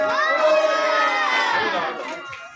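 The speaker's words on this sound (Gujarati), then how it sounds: "ખૂબ ખૂબ જોરદાર તાળીઓ" An audience at a costume-parade evening held by a youth club in Nadiad lets out a loud, bright burst of cheering and shouting, with children's voices prominent, before it fades out.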